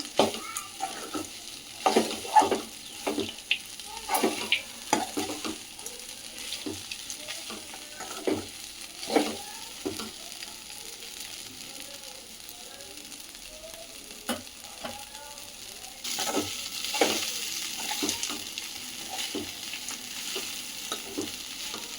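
Poha fries in a pan for atukula upma while a spoon stirs it, giving repeated close scrapes and taps over a low, steady sizzle that swells louder near the end.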